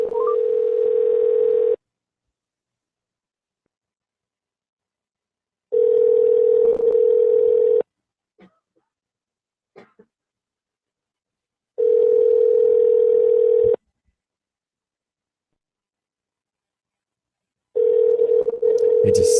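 Outgoing telephone call ringing unanswered, four long steady tones, each around two seconds, repeating at roughly six-second intervals with near silence and faint clicks between rings.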